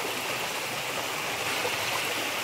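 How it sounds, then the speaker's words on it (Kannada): Rainwater rushes through channels at Chitradurga fort in a continuous, fairly soft stream, an even flowing wash with no voices over it. "ನೀರು ಎಷ್ಟೊಂದು ರಭಸವಾಗಿ ಹರಿತಾ ಇದೆ"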